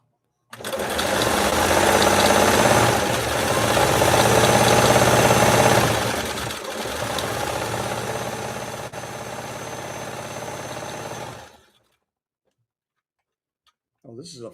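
A 1962 Singer 328K sewing machine runs a decorative stitch, a loud steady mechanical whir with rhythmic ticking for about eleven seconds before it stops, followed by a brief faint knock near the end.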